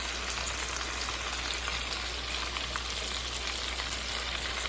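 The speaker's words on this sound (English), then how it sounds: "we just flipped over our Salisbury steak. It's cooking just right." Salisbury steak frying in a pan over medium-high heat just after being flipped, giving a continuous, even, close sizzle and crackle with no one talking.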